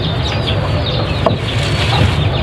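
Native and Texas chickens clucking close by, soft repeated clucks over a steady low background rumble, with no talking.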